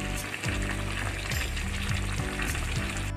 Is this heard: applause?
no